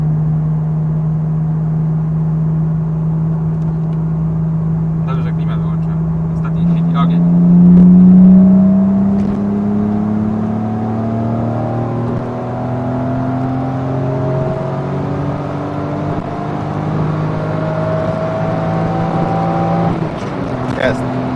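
A BMW E36 328i running on LPG accelerates hard from 100 to 160 km/h, its engine note climbing steadily through rising gears with a brief shift dip, loud and close from inside the car, with talk in the cabin.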